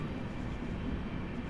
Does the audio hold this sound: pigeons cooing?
no